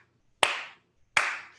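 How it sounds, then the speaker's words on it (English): Two sharp, loud hand claps spaced about three quarters of a second apart, a choir clapping along in a steady rhythm, each with a short bright ring, no talking. "Get your hands going. Clap with me."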